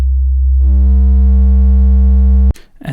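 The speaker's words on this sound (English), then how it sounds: "we get a sine wave, and then it slowly turns into a square wave as it gets clipped on the way out." A loud low sine tone from the CamelCrusher plugin swelling in volume until hard clipping turns it into a buzzy square wave with stacked harmonics, holding steady, then cutting off abruptly into a brief noisy burst.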